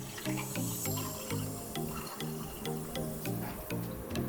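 Soda water is poured over ice into a glass for a sweet milky soda drink, giving a steady fizzing, bubbling pour with faint crackles, close and moderately loud without any talk.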